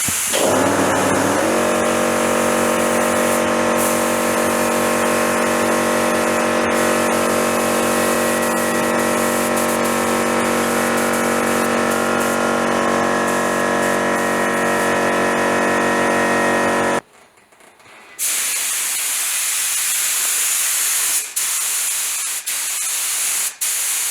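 Spray gun laying a primer coat on a 1956 Chevy Bel Air during restoration, a steady loud continuous hiss with a tonal compressor-like hum running for about seventeen seconds, then cutting off to quieter background noise with short bursts.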